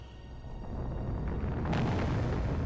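Fire 3 spell from Final Fantasy Tactics: a swelling fiery rumble that builds and then erupts into a bright, sustained crackling blast, loud and alone.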